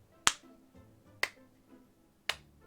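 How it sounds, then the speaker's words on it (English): Three slow, sharp hand claps spaced about a second apart, given sarcastically by a character in a spooky witch-themed video game dating sim; each one lands crisp and close, with quiet pauses between. "Zero brings his hands together slowly and horribly in 1, 2, 3 sarcastic claps."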